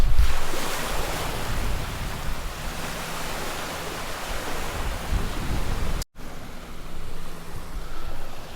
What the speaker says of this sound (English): I am now at the beach on Koh Phi Phi Don.